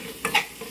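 A spoon briefly scrapes and stirs through Nellore-style fish curry in a pan, giving a short sizzling swish with a couple of soft clinks, close and fairly quiet.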